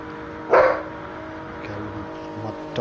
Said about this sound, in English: Dog Rick says hello